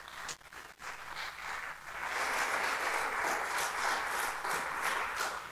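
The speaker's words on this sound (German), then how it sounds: "Ja, das ist dein Applaus." In a Stuttgart church service, the congregation claps to welcome pastor Ralf Pachner from Esslingen, soft scattered clapping building into steady, moderate applause heard from across the hall.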